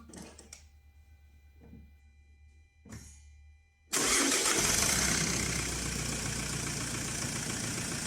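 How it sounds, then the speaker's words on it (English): A few faint clicks and rustles, then a Kia car engine cranks and catches abruptly after EGR, intake manifold and throttle body cleaning, settling into a loud, steady idle. "the engine started right away in my case"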